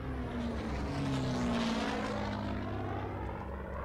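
Military propeller aircraft in the World War II shooter game Hell Let Loose roar overhead, a steady droning engine rumble that swells and slowly shifts pitch as the planes pass, with no talk.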